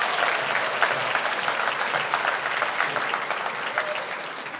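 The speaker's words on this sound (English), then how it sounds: "Now give yourselves a round of applause." High school students at a safe driving summit in a technical college hall clap in dense, sustained applause that gradually tapers off.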